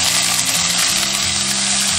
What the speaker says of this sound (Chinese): 下入葱姜蒜炒香